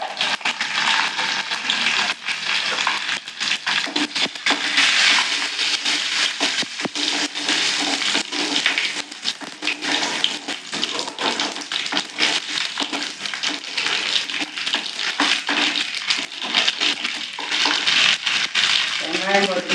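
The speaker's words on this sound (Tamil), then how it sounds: "எண்ணெய் காஞ்சிச்சு, கடுகு போட்டுக்கலாம்." Mustard seeds dropped into hot oil for Tirunelveli fish curry, a dense crackling sizzle with sharp pops continuing steadily and close up.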